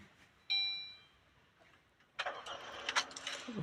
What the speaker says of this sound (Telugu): ఒకసారి మనం అయితే కార్ అయితే స్టార్ట్ అయితే చేసి చూద్దాం